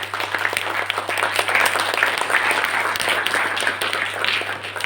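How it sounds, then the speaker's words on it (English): An audience at an entrepreneurship training session bursts into steady, dense applause, many hands clapping together at a sustained, even level throughout. "Can we go big round of applause?"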